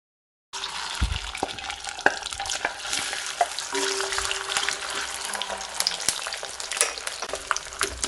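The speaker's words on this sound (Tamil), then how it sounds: "எண்ணெய் சூடானாக்கில் வேக வச்சுருக்க மட்டனை சேர்த்துடணும்." Boiled mutton frying in hot sesame oil for pickle, a close, steady sizzle that starts abruptly and crackles on with scattered pops and stirring knocks.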